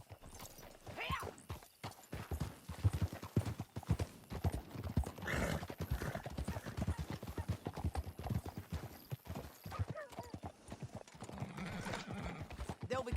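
A horse gallops in the video game Red Dead Redemption 2 with rapid, continuous hoofbeats and a whinny partway through, over rushing game ambience at moderate volume.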